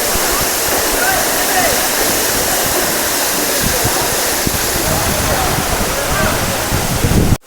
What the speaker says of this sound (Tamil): இதை பாருங்க என்ன வேகத்தில் வந்து தண்ணி ஊற்றுதுன்னு